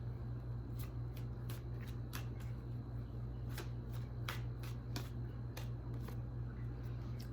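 Guidance cards being shuffled, with a run of crisp riffling snaps and flicks at an irregular pace over a steady low hum, close and fairly quiet.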